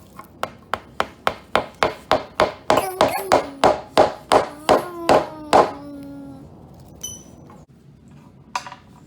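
Hollow wooden knocks as a coated wooden toddler bed piece is tapped into place, a steady series of about fifteen sharp close strikes that ring briefly, then a pause and a couple of faint taps.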